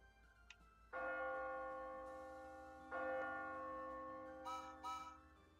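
A bell tolls in a video game story scene, struck twice with long ringing decays, followed by a pair of brighter, shorter chimes near the end.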